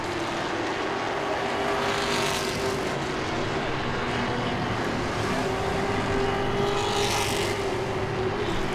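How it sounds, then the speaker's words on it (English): Grand stock race cars roar past at Langley Speedway, a steady, loud, continuous engine drone filling the whole stretch, with swells as the cars pass close by. "The 19 goes by Robbie Parker, who's in 3rd"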